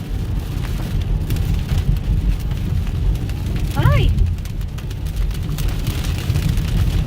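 Heavy rain drums steadily on a car during a severe thunderstorm while driving home in Texas, a loud continuous wash throughout with a brief exclaiming voice midway.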